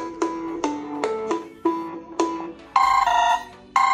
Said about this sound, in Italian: proviamo a sentire qualche suoneria, cioè è altissima